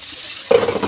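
Vegetables for spring rolls frying in a pan: after a quiet half second, a sudden loud sizzle with stirring scrapes, close and steady to the end.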